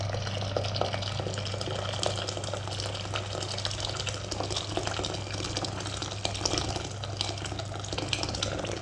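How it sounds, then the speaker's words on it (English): Boiling water poured from a kettle into a saucepan while making chunky chips, a steady close gushing pour lasting several seconds with no talk over it. "What we'll do is we'll place the boiling water."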